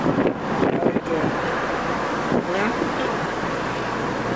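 Wind roar buffets the microphone during a ride in a Mini Cooper, a loud steady rush with road noise beneath it and a few brief gusts early on.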